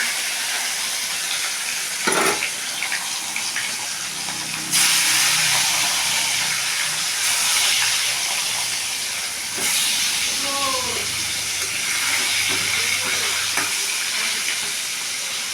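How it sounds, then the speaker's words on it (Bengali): Fish pieces fry crisp in hot mustard oil for a mango katla curry, a steady loud hiss and crackle running throughout, with a few brief bumps and faint background tones. "মাছটা ভেজে নেবো কড়া করে কারণ মাছটা কড়া করে ভাজা প্রয়োজন"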